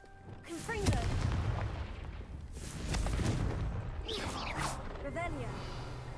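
A Confringo spell blast in the Hogwarts Legacy video game: several loud, close, broadband fiery bursts and crashes over about six seconds, mixed with game effects and possible faint voice sounds.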